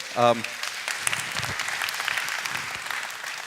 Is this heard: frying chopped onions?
no